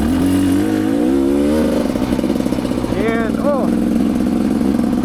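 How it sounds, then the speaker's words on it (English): A Rieju Ranger motorcycle rides a single-track trail, its engine droning loud and close with rising and falling revs and shifting pitch, while a rider's voice speaks briefly over it. "I'm riding the Rieju Ranger today."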